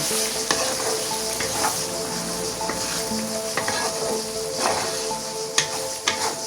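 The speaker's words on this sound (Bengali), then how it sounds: "পেঁয়াজটা এখন যে বাদামি হয়ে গেছে, আমি চিংড়ি মাছটা ঢেলে দিতেছি" Unfried prawns frying with browned onions in a pan for a brinjal and prawn dish: a loud, steady sizzle throughout, with occasional soft scrapes and pops.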